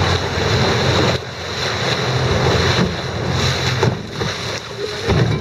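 River rapids during a group river crossing, a steady loud rush of turbulent water with broadband roar and gusts of wind noise, no talk.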